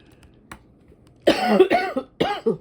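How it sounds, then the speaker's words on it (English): A few harsh coughs close to the mic, clustered in quick bursts, after a faint earlier click; no talking. "Sorry for the shaking and the coughing."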